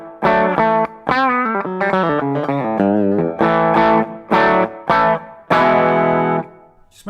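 An electric guitar runs through a boost pedal set to its red straight-boost mode, on a pedalboard, playing loud sustained chords and phrases with short gaps between them, alone and close.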